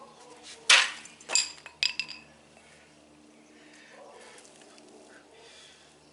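A Bowie knife with a Covington blade cuts through meat and wooden dowels, giving three sharp impact knocks in quick succession, followed by a quieter stretch.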